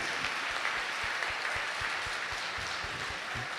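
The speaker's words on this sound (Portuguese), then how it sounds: "Dia das Mães, uma salva de palmas para as mães." A church congregation at a Sunday evening Mass applauds for mothers on Mother's Day, a soft, somewhat distant patter of many hands clapping for a few seconds with a few sharper individual claps standing out.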